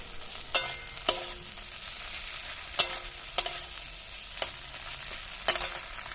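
Cumin and coriander paste goes into a frying pan for rohu fish curry, with a soft sizzle under a handful of sharp spatula clinks against the pan at irregular intervals, and no voices.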